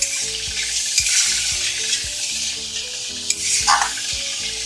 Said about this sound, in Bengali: নাড়িয়ে মিশিয়ে এটা ভেজে নিতে হবে